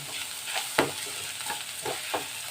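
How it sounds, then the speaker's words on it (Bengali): Grated coconut fries in oil while being stirred, a continuous soft sizzle broken by several sharp scraping strokes of the spoon against the pan, close and steady with no voices. "নারকেলও ভালো করে আমি তেলের মধ্যে কষিয়ে নিচ্ছি"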